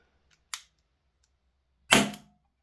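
A Tokyo Marui LCP II gas blowback pistol fires a 0.2 g BB through a chronograph, giving a faint click and then one sharp, loud gas pop with a short hiss, heard alone.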